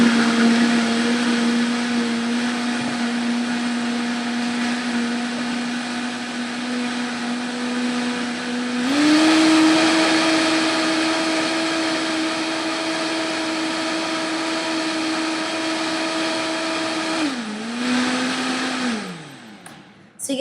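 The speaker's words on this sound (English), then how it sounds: "you give that a nice little blend until it becomes this milky type stuff" A blender whirs steadily as it purees almonds with water into almond milk, a loud sustained motor drone that shifts pitch twice before spinning down at the end.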